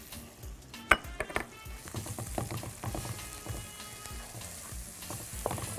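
Garlic and softened onion fry in a pan for a spinach omelette, a close sizzle broken by a sharp clank and spoon scrapes against the pan.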